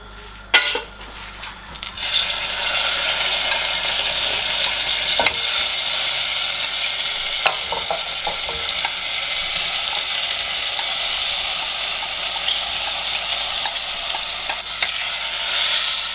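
Paneer fries in a pan with a continuous, loud sizzle, opening with a few clattering stirs before settling into an even crackling hiss.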